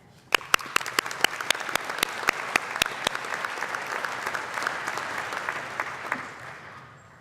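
An audience claps to welcome Charlie Gunningham as a speaker at a TEDx Perth evening event. A few sharp nearby claps start it, then a dense, steady round of applause fades out.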